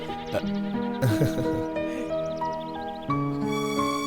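A baby goat bleats several times in quick succession in a dubbed movie scene, its wavering cries fairly close and loud over a layer of music.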